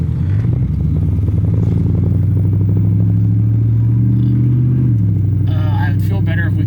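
A car fitted with a shift kit drives along with a loud engine drone that holds steady and then drops as the gears change, with people talking in the cabin.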